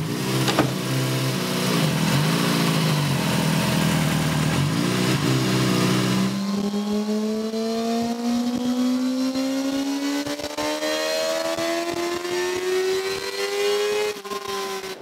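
A modified motorcycle engine runs on a dyno, roaring loudly at high revs and then dropping back before winding up again in one long, rising pull, with no talking.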